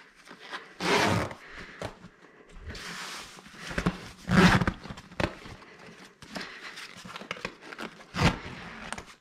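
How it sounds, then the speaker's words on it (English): Zippers on the fabric side panel of a Chicco Next 2 Me or Tutti Bambini Cozee bedside crib being pulled back up, giving several close, scratchy rasping runs with short pauses between them and no talking. "And then you would just pull your zips back up."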